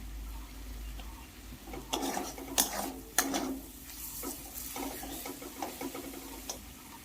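Spice masala for a Bengali rui and potol fish curry, with ground coriander added, being stirred and fried in a pan, giving quiet scraping strokes and soft clinks over a low sizzle, close but faint, with no talking.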